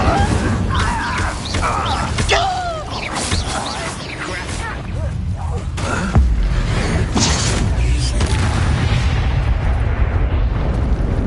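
Incendio fire spell cast in Hogwarts Legacy: repeated whooshing bursts and booming flame blasts crackle over a busy combat soundscape, with voices scattered through the din.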